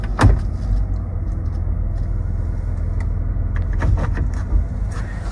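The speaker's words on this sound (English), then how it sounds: "Let's go ahead and start up the van." A 2012 Dodge Grand Caravan van with a BraunAbility fold-out ramp and 84,000 miles cranks and starts, with a sharp burst at the outset and another around the middle before settling into a steady, close, low idle.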